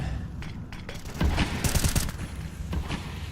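A grenade is thrown during a professional Counter-Strike match, with a rapid run of game gunfire and mechanical clicks, then a louder burst in the middle, all moderately quiet.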